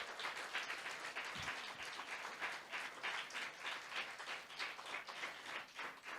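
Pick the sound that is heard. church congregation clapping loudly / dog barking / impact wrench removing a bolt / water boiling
church congregation clapping loudly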